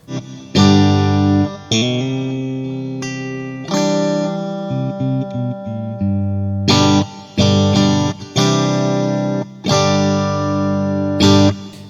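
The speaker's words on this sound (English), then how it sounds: "Let's go for the whole reverb. I'm putting that behind the amplifier." Distorted electric guitar chords ring out through an Overloud TH-U amp simulator with full reverb behind the amp, lush reverb tails, strummed phrases separated by short pauses, loud and alone.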